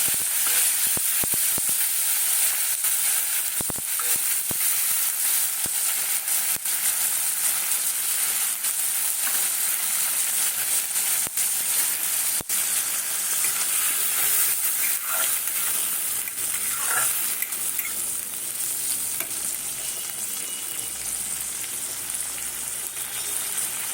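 Ginger-green chili paste and tomato paste frying for khichuri, a constant close hiss and sizzle of hot oil with occasional faint clicks of a utensil, no talk.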